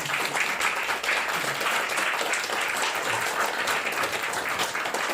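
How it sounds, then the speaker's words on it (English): Audience applause at a live show in Harrow: a dense, steady wash of many hands clapping, loud and sustained throughout without pause. "stand up and take a round of applause"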